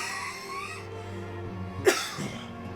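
A single sharp cough from a person with a lingering cough bursts out near the middle of a quiet stretch, close and abrupt, followed by a brief breath.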